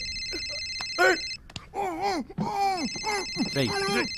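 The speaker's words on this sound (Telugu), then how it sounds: "డాక్టర్ నుంచి ఫోన్ రా" A steady electronic ringing tone repeats in the background while a person speaks in short, drawn-out phrases over it.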